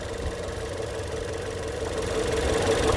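A Ford Escape engine idles with a steady low rumble and vibration, running hot after a 6F35 transmission fluid change, close and continuous, growing slightly louder toward the end.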